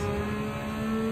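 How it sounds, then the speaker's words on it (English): A Porsche engine in Gran Turismo 7 holds a loud, steady rev, a dense mechanical drone with a clear tonal whine throughout, close and unbroken. "The only thing I'm concerned about is my Porsche is kind of loud."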